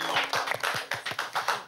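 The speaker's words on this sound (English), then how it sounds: "Let's give him another round of applause" Rhythmic audience clapping at a children's spelling-bee show honoring the spelling champion, a quick even run of about ten sharp claps with soft low thumps, steady and fairly close.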